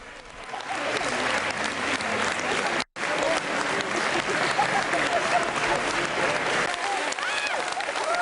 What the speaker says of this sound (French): Fin de la pièce, et au moment des saluts, un tonnerre d'applaudissements pour tous les acteurs.